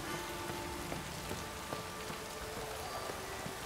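Steady rainfall in The Witcher 3: Wild Hunt, a soft even patter and hiss with scattered droplet ticks, continuous and moderately quiet, with no voices.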